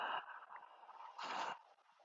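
Open-mouthed breathing in a yoga breathing demonstration, a soft airy breath that swells into one broad, louder rushing inhale lasting about a third of a second, close and steady with no talk.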